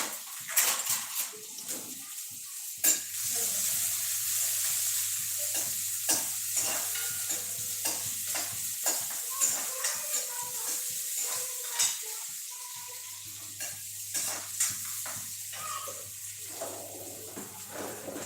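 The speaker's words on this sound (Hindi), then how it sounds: "अब इसको मैं भून रही हूँ, है ना। तो अच्छे से चम्मच चला लेती हूँ इसमें।" Dal fried in a pan, with a spoon scraping and stirring through it in steady, repeated strokes over a constant sizzle, close and fairly loud, with no talking.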